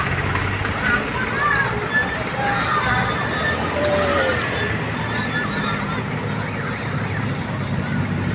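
A tourist bus from the Oyor team, Dinasti, rolls along a busy road amid steady traffic rumble, with voices of a roadside crowd chattering throughout.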